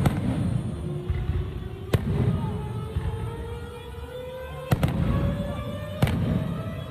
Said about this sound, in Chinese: 要改以高空烟火秀的方式来呈现